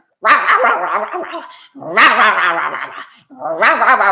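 Small dogs bark in rapid, overlapping bursts, three loud flurries of yapping separated by brief pauses, close by with some whimpering yips mixed in.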